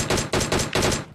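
Gunfire in a PUBG-style video game during a sniping match: four loud, sharp shots fired in quick, even succession within about a second, each a full-bodied crack, with no talking over them.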